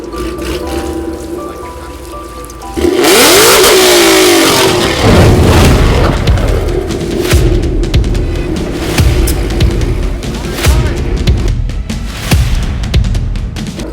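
A car exhaust revs hard and shoots flames to ignite gasoline, starting with a steady idle and then erupting into a loud, roaring burst of throttle that sweeps up and down before settling into a rough, rumbling run with sharp pops.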